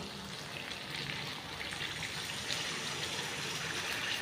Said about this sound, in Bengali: এবারে চিকেনটাতে আমি জল দিয়ে দিচ্ছি